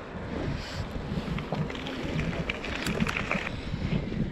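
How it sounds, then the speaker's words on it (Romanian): Steady wind gusting across an open road outside a village, a broad continuous rush with slight swells, close and moderately loud with no talk. "Și a început să bate vântul."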